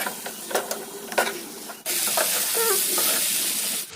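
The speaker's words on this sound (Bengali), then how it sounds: "এবার দিয়ে দিচ্ছি ভিজিয়ে রাখা চাল।" Soaked rice tipped into a pan of fried potato and paneer with rose water and kasuri methi: a few light scrapes, then a sudden loud, steady hiss of sizzling that runs to the end, with no talking.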